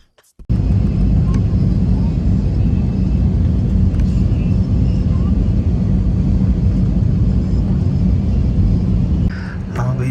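Passenger airplane landing at Lahore, a loud continuous cabin roar of engines and rumble heard from inside, steady throughout with a short drop and rattle near the end.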